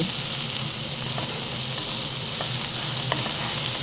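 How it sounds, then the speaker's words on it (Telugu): Onions and green chillies fry in a pan for a desi-style egg pasta, producing a loud, continuous close-up sizzle with occasional faint crackles throughout. "ఆనియన్స్ అండ్ చిల్లీస్ వేసుకున్న తర్వాత బాగా కలుపుకొని"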